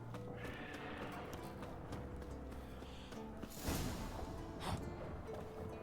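Horse in The Witcher 3: Wild Hunt, with game hoofbeats and whinnies over steady in-game ambience, a louder burst of movement near the end.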